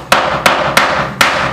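Four sharp hammer blows on a chisel, spaced a little unevenly, while chiseling during a kitchen gas cooktop installation; loud, close and crisp, each strike followed by a short ringing decay.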